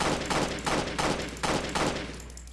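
Pistol gunfire in the video game Roblox Jailbreak, five or six loud evenly spaced shots in quick succession.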